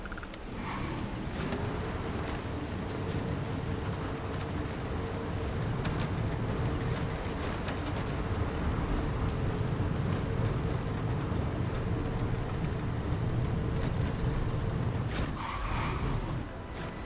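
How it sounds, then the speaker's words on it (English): Rain falls steadily in the video game Starfield, a continuous wash of downpour with a low hum beneath it, heard alone and without talk for the whole stretch. "unless you like getting soaked by the rain."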